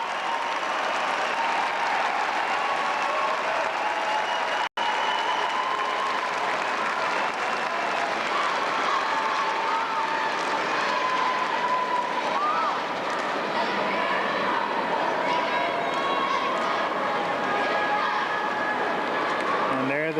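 A large high school football crowd at a 1997 sectional final cheers and applauds steadily for twenty seconds, a dense continuous roar of voices and clapping that stays loud throughout, with a commentator talking over it.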